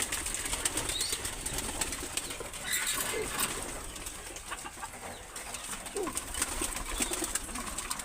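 Pigeons flap their wings in bursts amid soft cooing, a busy, fluttering clatter that stays fairly close and continuous.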